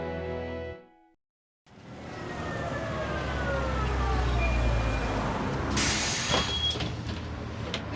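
A city bus pulls up at a stop, its engine rumbling low and steady with traffic noise around and a brief hiss of brakes or doors near the end.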